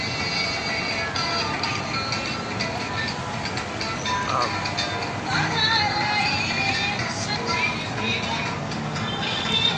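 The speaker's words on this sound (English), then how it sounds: "I got the sky train near me, and the fan behind me there." A sky train rolls past nearby with a steady rumble and rail noise, while a fan whirs continuously in the background and a person talks over it.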